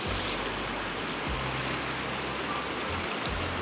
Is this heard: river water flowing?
yes